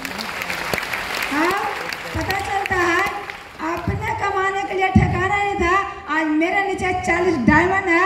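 Enthusiastic audience clapping at a DXN business meeting, a sustained wash of applause running beneath a loud voice and tonal sound throughout.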